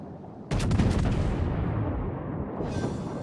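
Battleship guns fire in the World of Warships game: a sudden heavy close boom with a quick ripple of overlapping blasts, then a long rumbling decay that fades out.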